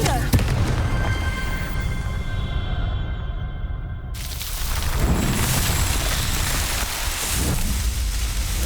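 Confringo blasting curse in Hogwarts Legacy: a rough, crackling blast with a hiss like rain, a sudden broad burst midway, then further fizzing pops.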